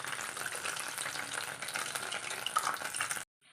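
Urad dal vada sizzle loudly in hot oil with a close, steady crackle that stops abruptly at the end.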